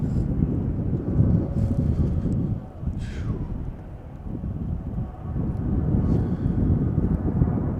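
An airliner on the runway at Chicago O'Hare rumbles through a takeoff roll, a steady broad roar with wind buffeting on the microphone and faint distant tones, nearby and continuous throughout.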